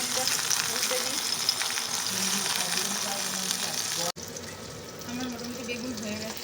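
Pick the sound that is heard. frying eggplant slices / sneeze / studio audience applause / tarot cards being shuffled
frying eggplant slices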